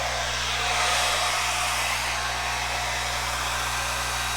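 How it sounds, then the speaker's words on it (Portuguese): A hair dryer runs steadily at close range with a constant, even roar and a low hum, with no talk over it. "Secador,"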